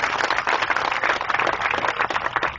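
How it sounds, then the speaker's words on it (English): Audience applause for radio hosts Armstrong and Getty at a patriot event, a dense, steady burst of many hands clapping throughout, loud and close with no talk over it. "A big round of applause for our friends Armstrong and Getty"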